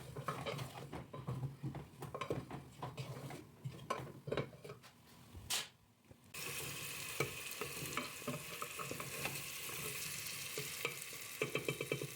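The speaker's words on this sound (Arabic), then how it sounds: "غادي نقليهم مع هاد 4 كاس ديال الزيت" Chicken pieces fry in about four glasses of oil with a steady sizzle. Stirring scrapes and clinks of a utensil against the pot come in bursts, then a brief hush before a louder, denser sizzle returns.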